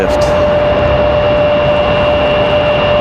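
A JetBlue Airbus A220 jet lifts off on takeoff at Raleigh-Durham International Airport. A loud, constant, close jet-engine roar with a steady high whine sustains throughout.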